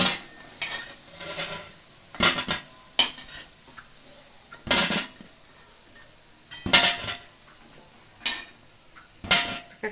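A metal utensil clinks and scrapes against a pan in sharp, separate bursts as fried fritters are lifted out one by one, with a faint background sizzle between the knocks while cooking a Bengali egg chochchori.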